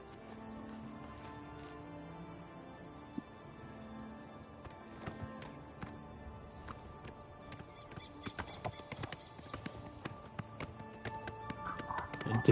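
Horse hooves clip-clop in the video game Oblivion Remastered, a quiet run of rhythmic taps that grows busier and a little louder toward the end, with faint game ambience beneath.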